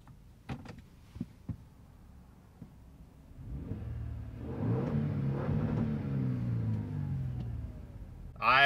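A 2022 Toyota Tundra with a TRD install revs in neutral. Light clicks come first, then the engine swells into a strong, close rev that holds and fades, followed by a final loud burst.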